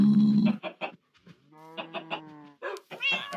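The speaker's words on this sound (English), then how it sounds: "all the chickens are out!" Chickens cluck in the Minecraft video game, with several short, close, fairly loud clucks and squawks in quick succession and a brief sustained tone between the bursts.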